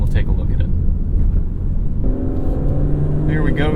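A 2025 Aston Martin Vanquish accelerating in GT mode on a canyon road, a loud, close engine rumble that rises in pitch partway through as the revs climb.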